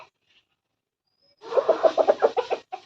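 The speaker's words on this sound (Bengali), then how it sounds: "দেখো না, এখানে মুরগিগুলো সব চলে আসছে খাওয়ার জন্য" Chickens gather to be fed, giving a run of close, rhythmic clucks that start after a brief quiet stretch and keep up steadily to the end.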